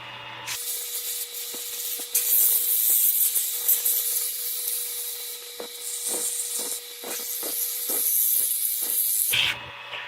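A wooden egg-shaped box spins on a woodturning lathe while sandpaper is pressed against it, giving a steady abrasive hiss over the motor's hum, with rhythmic scuffing strokes in the second half before the machine winds down.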